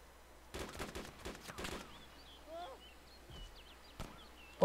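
Gunfire in the video game DayZ Origins: a quick cluster of several sharp shots in the first two seconds, then a lone shot later, with faint birdsong between them.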